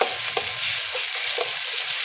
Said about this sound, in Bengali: ভালো করে ভেজে নেব, মশলার গন্ধটা চলে যাওয়া অবধি